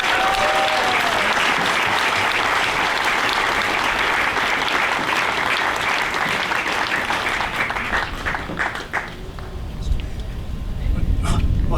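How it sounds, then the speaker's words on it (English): An outdoor crowd gives the mayor a warm round of applause at a Flag Day groundbreaking ceremony. Clapping stays loud and steady, then thins out and fades near the end. "please welcome with a warm round of applause our mayor, Mr. Jeffrey Shelke."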